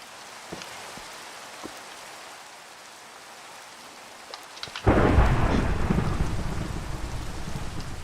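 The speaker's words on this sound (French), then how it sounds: "Il pleut." Rain and thunder in a mine-themed video game: quiet ambience with a few faint cracks, then a loud thunderclap at about five seconds followed by steady heavy rain that continues to the end.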